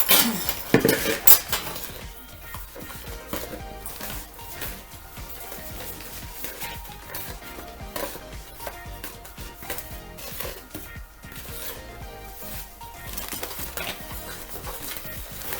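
Dry cake batter ingredients for a Jewish apple cake, flour and salt among them, being stirred together in a mixing bowl, with a utensil clinking and scraping against the bowl in a steady, close, continuous rhythm and no talking.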